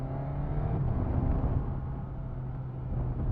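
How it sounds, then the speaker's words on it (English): A 2023 Suzuki GSX-S1000GT with an inline-four engine, heard as a steady, close, low engine drone with a faint rising whir, no voices. "I don't want to frighten him with the sound of a squealing inline 4"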